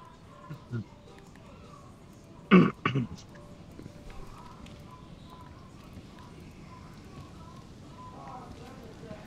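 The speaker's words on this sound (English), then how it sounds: "Hey, he's coughing." A short cough sounds from a character in the video game DayZ: two quick, rough bursts close together, then quiet background with faint rustling.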